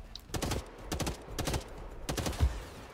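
A weak gun in the game Hawked fires in short, clipped bursts of small shots. About five quick volleys crackle out with brief gaps between them, at a moderate level.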